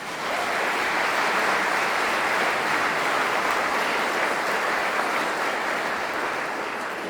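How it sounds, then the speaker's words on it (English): A warm round of audience applause at a concert event, a dense, even wash of many hands clapping that stays steady and full for several seconds. "Please give Marianne a warm round of applause."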